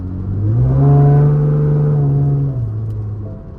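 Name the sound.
5th gen V6 Camaro with muffler delete driving, downshifting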